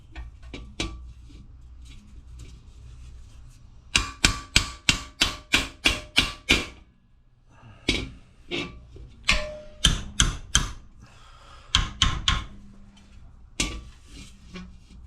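Sharp metallic hammer taps ring out in quick bursts as a metal lip is flattened over on a shed-built bobber motorcycle, a rapid run of about ten strikes followed by scattered pairs and clusters, close and loud.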